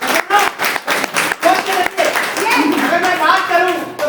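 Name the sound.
audience clapping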